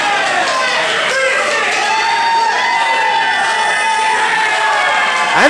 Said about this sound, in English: And the crowd calling for the end of Michael Massacre.